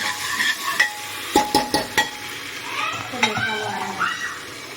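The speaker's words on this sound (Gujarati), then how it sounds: "આપણે પેલું ડુંગળી બધું નાખી દઉં, એમાં થોડા ટામેટા અંદર એડ કરી દઈશું ચડવા માટે." Onions and tomatoes for dal baati sizzle and fry in a pan, with a spoon stirring and clinking against the metal in irregular bursts over the steady frying hiss.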